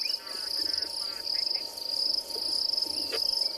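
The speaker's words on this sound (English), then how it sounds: "this grasshopper makes that sound, that buzzing sound." An insect buzzes at a steady, continuous pitch; a grasshopper makes the sound by rubbing the serrated edges of its legs against its body, heard outdoors on a morning safari in the Kalahari.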